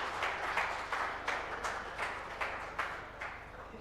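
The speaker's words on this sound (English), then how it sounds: "please give Mr. Navin Jaiswal a huge round of applause" A conference audience at WordCamp Nepal 2025 claps for an honoured speaker, a soft, distant patter of applause with rhythmic bursts roughly every third of a second, without voices.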